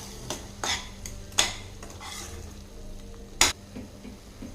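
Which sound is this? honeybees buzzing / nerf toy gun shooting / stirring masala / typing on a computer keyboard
stirring masala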